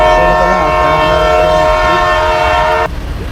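A train on Hanoi's narrow train street sounds a long, loud, sustained horn close by while heavy wheels rumble beneath it, and the horn cuts off abruptly near the end, leaving only the rolling rumble.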